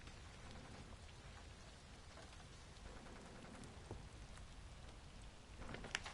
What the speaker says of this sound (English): The tent couldn't withstand so much rain and mud.